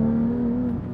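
A Porsche 992 GT3 Touring's flat-six engine holds a loud, steady, high-pitched rev heard from inside the car, easing off slightly at the end.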